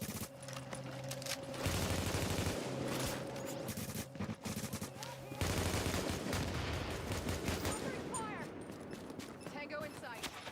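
Steady bursts of automatic gunfire from The Division video game rattle on continuously at close range, with dense volleys and brief pauses, while voices speak over the shooting.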